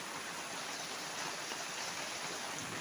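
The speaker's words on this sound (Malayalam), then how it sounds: "പുറത്ത് നല്ല മഴയാണ് കേട്ടോ" Heavy rain falls outside as a dense, even hiss of drops, steady and unbroken throughout, moderately quiet, with no voices.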